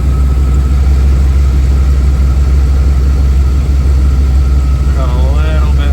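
A Jeep engine runs at a steady, loud, low idle throughout, a constant rumbling drone, with a brief warbling whine rising near the end.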